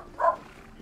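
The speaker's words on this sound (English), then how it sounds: "And that is my dog, I do apologise." A pet dog lets out a single short, sharp bark indoors, loud and close, then only quiet room tone remains.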